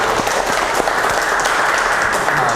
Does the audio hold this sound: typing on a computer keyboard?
no